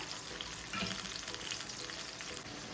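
Tomatoes cook in a pan with a soft, even frying hiss that stays faint and steady throughout, a few light crackles flickering over the continuous sizzle.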